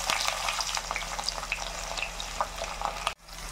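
Onions, shallots and curry leaves fry in hot oil for an egg kulambu, giving a steady close crackling sizzle with scattered pops that cuts off abruptly near the end.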